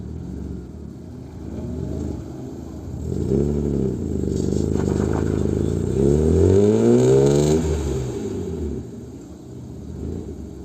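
A BMW car stuck in sand off-road revving its engine, rising and falling drones with strained swells and some scraping, loud and near, no talk.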